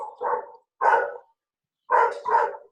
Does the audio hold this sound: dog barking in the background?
yes